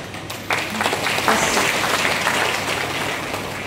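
A kirtan audience applauds steadily, many hands clapping together in a dense, continuous wash that swells after a brief quieter start and keeps going.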